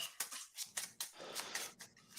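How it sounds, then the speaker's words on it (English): A deck of cards is shuffled up close, with quiet, irregular papery riffles and soft flicks across about two seconds, faint and with no talking. "And then I shuffle my deck."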